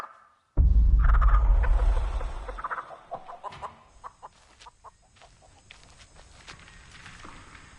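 Real chickens recorded as the voice of Nugget, the chicken in The Texas Chain Saw Massacre video game: a heavy low rumble at the start, then a string of short, close clucks scattered unevenly over several seconds.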